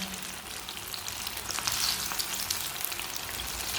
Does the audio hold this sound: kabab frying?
yes